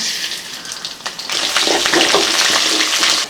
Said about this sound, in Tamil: இப்போ எண்ணெய் காஞ்சி வச்சுங்க மல்லி சேர்த்துக்கலாம்